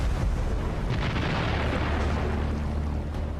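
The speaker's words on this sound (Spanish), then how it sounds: "se produce una explosión" A loud, rumbling blast from a World War II bridge explosion, with a heavy low roar that fills the whole moment and slowly settles.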